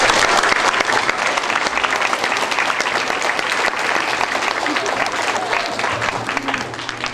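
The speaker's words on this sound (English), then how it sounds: "We honor him today with our applause" An audience of students and teachers at a school awards event claps loudly for a winning student, a dense burst of clapping that stays strong for several seconds and fades a little toward the end.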